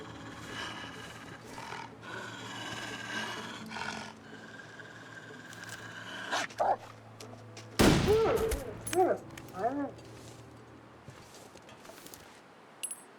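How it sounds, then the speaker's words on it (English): Several sharp gunshots in the video game The Long Dark crack out in quick bursts over a steady ambient hum, with scattered sharp impacts trailing off afterward. "You've not been hearing the gunshots?"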